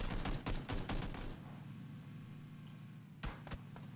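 Video game gunfire comes as a quick burst of several close, loud shots at the start, then a quieter stretch and two more sharp shots near the end, with no talking.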